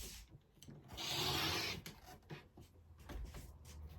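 A 3.5-inch fabric strip for a quilted table runner is trimmed, giving a quiet, raspy scraping sound that swells for about a second, then a few soft brushing and handling noises, with no talking.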